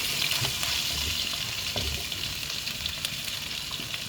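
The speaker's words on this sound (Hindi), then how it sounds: "ये थोड़ा सा राई दाना ये ऑयल में डाले तक चिटक जाएगी।" Mustard seeds crackling in hot oil in a pan while cooking a chicken roll, a steady faint sizzle with scattered tiny pops throughout.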